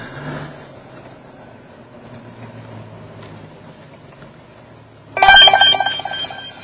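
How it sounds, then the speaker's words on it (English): A license plate recognition computer in a police car sounds a sudden loud electronic alert tone late in the moment, cutting sharply above a quiet low hum of the vehicle. "then we get an audible alarm here on the computer screen"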